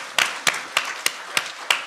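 A handful of audience claps ring out at a slow, even pace, six sharp separate hits over under two seconds, fairly close and with no talk over them.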